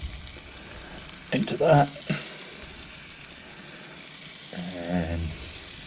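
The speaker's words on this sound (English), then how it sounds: "What I've got in my fry pan here is just some, like a big knob of butter melting" A big knob of butter melting in a fry pan with plain flour sprinkled in, a soft steady sizzle punctuated by short louder bursts of frying, close, with someone speaking briefly.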